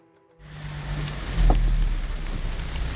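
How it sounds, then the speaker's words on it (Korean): Steady rain falls outdoors in bad weather on a city street in Daejeon during garbage collection work, a broad loud hiss that starts abruptly after near silence, with a low rumble beneath. "비가 오는 궂은 날씨에도 작업은 계속되는데요."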